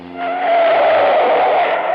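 A getaway car skids around a tight corner in a 1952 radio crime drama, a sustained high tyre squeal with engine noise lasting about two seconds, loud and close.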